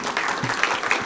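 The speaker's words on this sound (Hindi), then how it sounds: "मैडम के सम्मान में एक बार घनघोर ताली बजाओ।" Audience clapping at a Chhattisgarhi kavi sammelan poetry event, a dense, steady wash of applause running through the whole moment at a moderate level.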